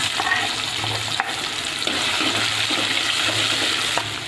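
Onion tipped into hot oil with cumin seeds, a continuous broad frying hiss close up with occasional soft clicks of a spoon against the pan, no talk.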